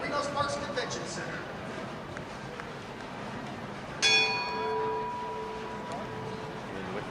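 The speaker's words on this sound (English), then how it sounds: "And with the bell, we are ready to begin." A single bell strikes to open a women's bowling championship at a convention center, ringing out sharply and then sustaining with a long, decaying metallic tone over the faint hum of a large hall.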